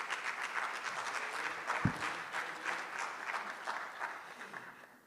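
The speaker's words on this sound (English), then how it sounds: "So please give Monga a round of applause." Audience applause for a panelist at an engagement festival, a moderate patter of many hands that swells and slowly fades, with one brief thump partway through.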